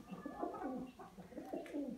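Pigeon cooing in soft, repeated rolling phrases, close by and fairly quiet, with no talk.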